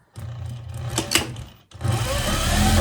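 A sewing machine stitches a half-inch seam on a loosely woven wool cloche hat with interfacing, using a small stitch. It runs in a steady close hum, pauses briefly, then starts again a little louder.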